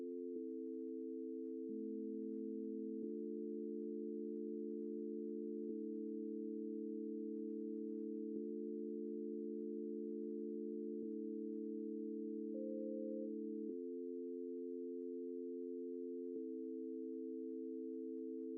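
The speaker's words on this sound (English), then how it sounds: "right now it's just a simple sine wave" A simple sine-wave synth lead from the Europa synth in Reason 11 plays sustained, pure chord tones that shift through a slow progression, clean and steady with no voices.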